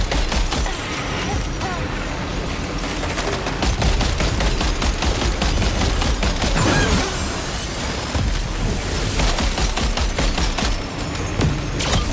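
Dense gunfire in the video game Death Stranding 2: continuous rapid bursts and volleys of shots, loud and crackling, with mechanical clatter and impacts running nonstop throughout.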